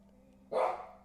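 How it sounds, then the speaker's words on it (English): Single sharp dog bark, close and fairly loud, bursting out once after a quiet hum and fading quickly. "I let the barking dog"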